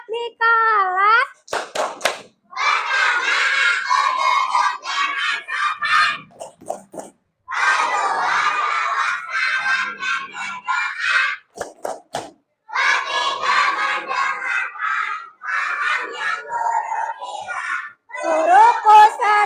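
A class of children chants the tepuk adab together in a classroom, voices loud and sing-song, with rhythmic bursts of hand clapping between the chanted lines and brief pauses between phrases.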